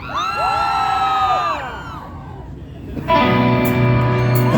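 A concert crowd cheering, whooping and shouting for the guitarist at a live show, loud and broad, then blending into amplified music with sustained chords.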